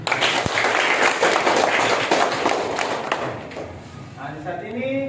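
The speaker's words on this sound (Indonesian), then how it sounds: "Pak Guru sekali lagi minta kita berikan aplaus untuk masing-masing kelompok" A classroom group applauds each student team with a dense burst of clapping and scattered taps for several seconds, and a voice comes in near the end as the clapping fades.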